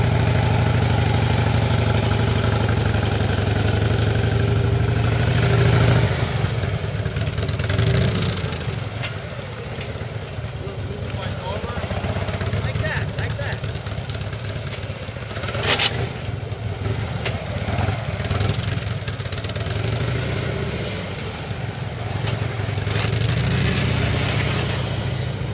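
Motorcycle engine ridden by a civilian rider at a riding class, running steadily throughout with idling stretches and occasional rises in revs, close and fairly loud with no talk.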